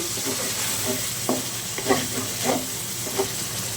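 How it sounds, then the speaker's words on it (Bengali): Shrimp fries with spices in oil under a steady hiss, broken by several short scrapes and clatters of stirring close by. "তো এখন চিংড়ি মাছ মশলার সাথে ভালো করে কষানো হোক"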